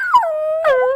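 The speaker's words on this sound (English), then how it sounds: "a dachshund puppy" A dachshund puppy howls in one long, wavering, drawn-out cry that slides downward in pitch, with a short yelp near the start and a louder rise partway through, close and clear with no talking.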